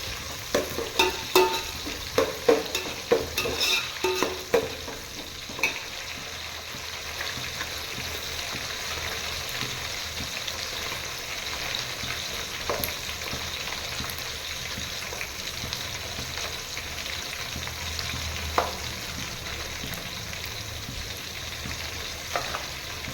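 Onions and slit green chilies fry in a pan for millet rice, with a steady sizzle throughout and a spoon scraping and stirring in clustered bursts early on, then occasional single scrapes.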